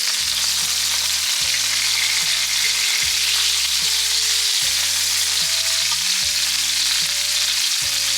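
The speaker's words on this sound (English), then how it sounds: "these have been searing on the one side" Chicken breasts searing in a hot pan, a loud continuous sizzle and crackle filling the whole stretch, close and steady with no voices.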